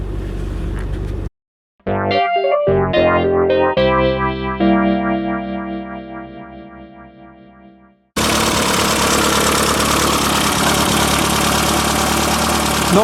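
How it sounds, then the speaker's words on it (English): A Triumph car engine idles roughly with carburettor trouble, a dense, steady mechanical drone that holds loud and alone for several seconds after a brief electronic tonal passage. "Not running terribly smoothly. I think I'm having some problems with the carburetors, which will need future investigating."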